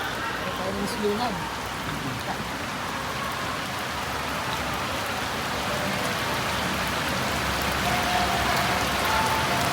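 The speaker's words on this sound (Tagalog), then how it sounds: "sumabay naman ang malakas na buhos ng ulan uli" Heavy rain pours in a dense, steady hiss that stays loud and unbroken throughout, during flooding in Tatalon, Quezon City, late at night.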